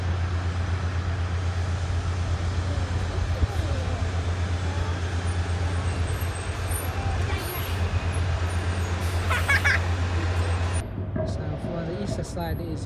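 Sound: bus passing on the street

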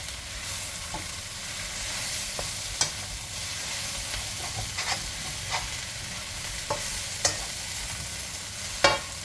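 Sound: stir-frying noodles and scallions in pan

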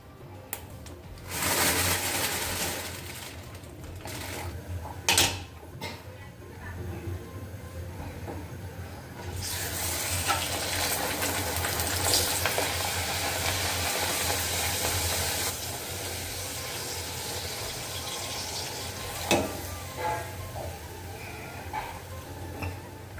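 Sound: luchi frying in oil

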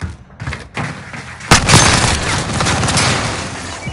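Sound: gunfire in the video game Warzone

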